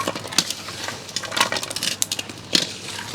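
Garlic scallion oil is mixed by hand, producing close, irregular clinks and scraping knocks of a utensil against a bowl, alone with no talking.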